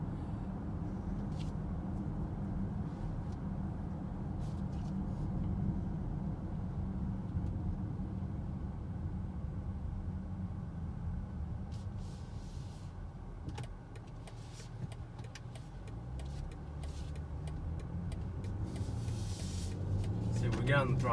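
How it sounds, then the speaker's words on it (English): Inside a 2020 BMW X5 in sport mode, a low road and engine rumble fills the cabin as the SUV gently accelerates, with a rising tone toward the end and faint clicks over the steady drone. "just kind of give it a little bit of acceleration"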